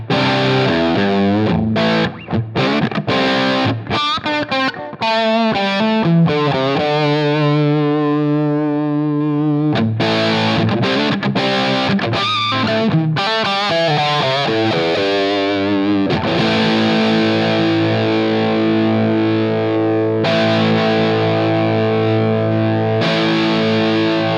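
Electric guitar played through a Line 6 Helix with the amp bias set to 10, a softer, slightly less overdriven distorted tone heard alone in chords and single-note riffs, loud and continuous with brief pauses.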